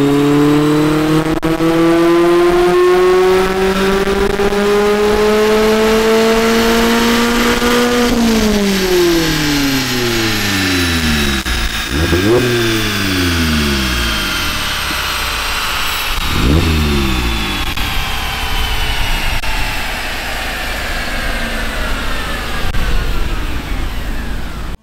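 Mazda MX-5 ND roadster fitted with a Goodwin-Racing exhaust, revving on a dyno: a loud engine note climbs steadily, then drops sharply, followed by repeated quick rises and falls as the throttle is blipped, with no talking.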